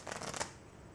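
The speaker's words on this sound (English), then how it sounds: "I'm going to give the deck one last little shuffle." A deck of playing cards gets one quick riffle shuffle, a brief close fluttering burst lasting under half a second before fading to quiet.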